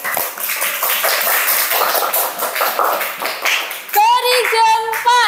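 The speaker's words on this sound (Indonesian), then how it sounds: "Tepuk tangan untuk kelompok 3." A school class clapping hands for a presenting group: dense, fast, steady clapping for about four seconds, then tapering off as brief voices and tonal sounds come in near the end.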